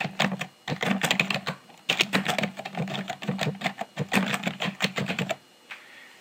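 Rapid bursts of typing on a computer keyboard as a task name is entered into a to-do list app, close and clear, with brief pauses between clusters of keystrokes.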